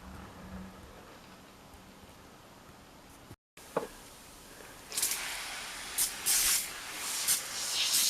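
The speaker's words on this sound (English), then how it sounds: "I'm going to spray it again" Several short hissing bursts from a spray bottle of cleaner onto the cabinet of a 1976 Pye T184 24-inch monochrome TV follow a stretch of quiet background, each spritz close and distinct.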